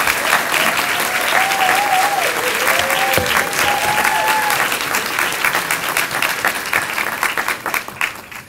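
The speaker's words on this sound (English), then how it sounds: "Let's have a round of applause." A sustained round of audience applause fills a hall at an honors convocation, steady dense clapping that carries on for several seconds before tapering off near the end, with a voice sounding briefly over it.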